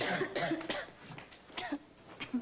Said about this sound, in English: You better get up to bed with that cough.